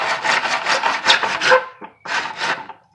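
A hand saw cuts wood in a Stanley miter box in quick, rhythmic back-and-forth rasping strokes, close and loud, pausing briefly before a few more strokes.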